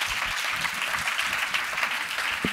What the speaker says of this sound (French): Eh bien, bravo aux infirmiers. On les applaudit bien fort.